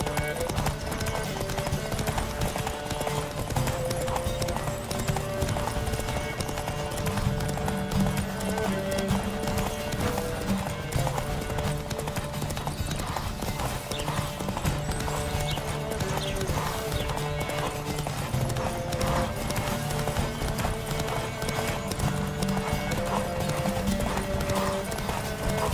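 A horse gallops steadily in The Witcher 3: Wild Hunt, with continuous rapid hoofbeats, occasional whinnies and a voice speaking over the dense, loud, unbroken run.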